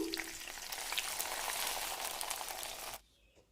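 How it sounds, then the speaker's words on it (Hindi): Green peas frying in hot oil over a low gas flame, a steady close sizzle with crackling pops that stops abruptly near the end. "अब इसमें हम हरी मटर को भून लेते हैं।"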